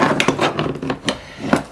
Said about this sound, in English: let's try a little trim tool here, see if we can get in behind it and pry it up